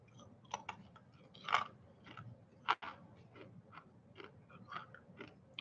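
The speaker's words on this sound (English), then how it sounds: "I don't know if you've ever eaten the gum that's in a pack that's 35 years old" Close, wet chewing of 35-year-old gum from a trading card pack, irregular mouth clicks and a couple of sharper crunchy bites, quiet and without talk.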